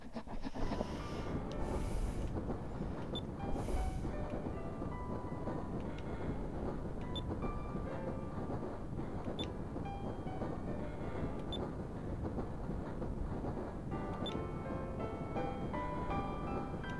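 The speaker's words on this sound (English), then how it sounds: "We're on a train." A train rolls along rails in the video game Skies of Arcadia Legends, a continuous rumbling clatter with a rhythmic mechanical undertone and faint periodic clicks, steady and fairly loud throughout.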